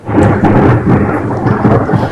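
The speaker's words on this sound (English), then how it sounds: "That rain's getting heavy." Heavy rain pours loudly and continuously with deep rumbling thunder rolling underneath, close and dense throughout, with no one speaking.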